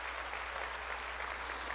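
A congregation claps during a church sermon about the Holy Spirit, making a steady, dense wash of applause that holds evenly throughout at a moderate distance, with no voices standing out.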